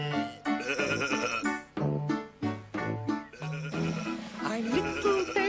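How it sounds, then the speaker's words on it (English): Cartoon-style sheep bleating in a children's TV fantasy setting, several bleats in quick succession over bright music, with a voice speaking at times. "Oh, lovely sheep."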